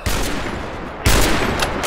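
Gunfire inside Garry's Mod on a roleplay server: a loud, continuous barrage of rapid shots that swells sharply about halfway through, dense and close with no talking over it.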